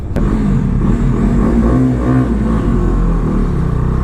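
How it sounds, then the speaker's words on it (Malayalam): A Bajaj Dominar 250 motorcycle engine drones in a steady, deep rumble while being ridden, loud and continuous with no talk over it. "ഞാൻ അതിൻ്റെ അടിയിൽ വണ്ടിയുടെ സൗണ്ട് ഒന്ന് കേൾപ്പിക്കട്ടോ."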